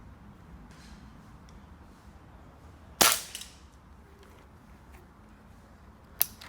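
A vintage Britannia bullpup spring-powered air rifle fires once with a sharp, loud close crack and brief spring rattle, followed later by a second fainter snap against quiet background.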